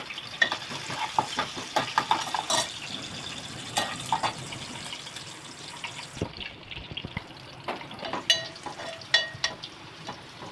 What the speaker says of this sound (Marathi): लसूण तेलामध्ये चांगल्यापैकी परतून घ्यायचं